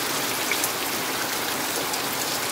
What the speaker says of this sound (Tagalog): tuloy-tuloy po ang ulan